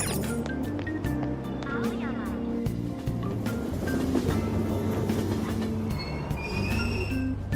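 A subway train rumbles and its wheels squeal at the Aoyama-Itchome station platform in the video game Persona 5 Royal. The sound runs steadily throughout under an electronic station announcement voice and layered tonal music.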